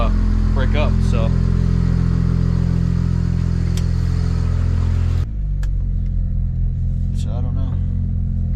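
A BMW 335i idles steadily after a repair for misfires on injectors 1, 2 and 3. The deep, even engine drone is close and loud, dips slightly partway through, and someone speaks briefly over it.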